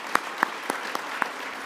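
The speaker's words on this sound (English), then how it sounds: "please join me in giving him a round of applause" A few sparse, evenly spaced handclaps at an awards ceremony honoring executives, five distinct claps over a quiet room, thin and modest rather than a full ovation.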